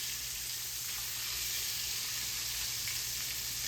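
Liver sizzles and fries steadily in a hot pan just after being flipped, a constant close crackling hiss with no break and no talking.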